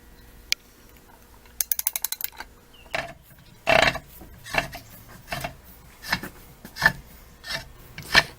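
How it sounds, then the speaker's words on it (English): Bolts being fastened as a center hub is fixed to a flywheel: an isolated click, a quick series of ratchet clicks, then irregular metallic rasps and clanks, close and fairly loud. "Now I'm bolting the center hub to the flywheel."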